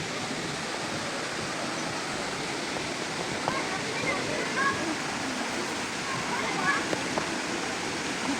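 A steady, full roar of Tinago Falls in Iligan City, loud and continuous throughout, with no pauses.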